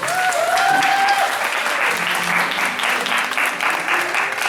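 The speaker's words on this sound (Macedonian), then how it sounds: "еден голем аплауз за убавицата." Audience applause at a New Year's celebration marking 50 years of a folk dance ensemble, sustained steady clapping from a crowd, loud and continuous throughout.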